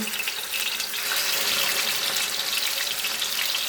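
Chicken leg pieces for a roast sizzle in hot oil, a loud, dense, steady crackling hiss that rises slightly and holds, close up with no talk.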